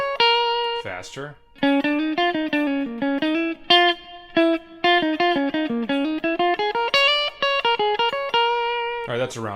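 A blues lick on electric guitar, a quick run of clean picked single notes with bends and short pauses, played close and alone at full speed.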